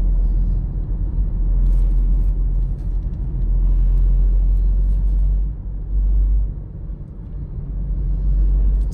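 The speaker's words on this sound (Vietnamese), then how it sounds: "Đường bê tông thật xấu để cảm giác được cái gầm của nó nào." A 2013 Toyota Innova E rolls over a rough concrete road, its deep continuous low rumble of engine and tyres steady and close, with slight dips in loudness and no talking.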